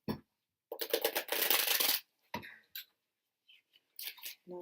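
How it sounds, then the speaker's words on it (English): A deck of cards being riffled and shuffled, a dense burst of rapid papery flutters followed by a few quieter snaps and clicks, close up. "You hear the sound of the shuffle."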